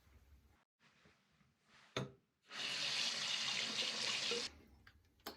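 A razor is rinsed under a running bathroom sink tap: quiet handling at first, a sharp knock, then a loud steady gush of water for about two seconds before it shuts off, followed by a few small clicks.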